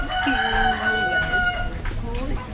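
A rooster crows close by on a hillside farm beside rice paddies, one long drawn-out call that rises and then falls away, loud and clear over faint background noise.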